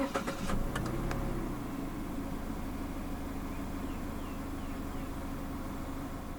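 A 2022 Mazda CX-3 with the 1.5 SkyActiv-G engine cranks briefly at push-button start, catches with a quick rev, then settles into a steady low idle, heard close from inside the car.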